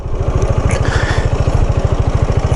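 A Gilera Fuoco 500 three-wheel scooter's single-cylinder engine putters at idle with a fast, even thumping exhaust beat, loud and close throughout.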